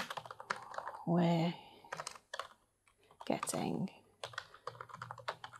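Rapid clicking of computer keyboard keys as a short phrase is typed on a crafting software project, close and moderately loud, with someone talking before and after the keystrokes.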